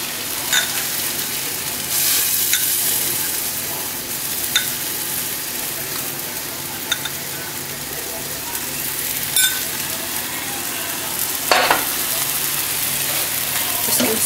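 Garlic and vegetables fry in a pan with vegetable stock added, a continuous loud sizzle with a few scattered clinks and scrapes from stirring, no voice.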